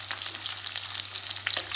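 Mutton kofta meatballs frying in a pan over a low flame, a steady crackling sizzle with sharper pops scattered throughout, close and without talk.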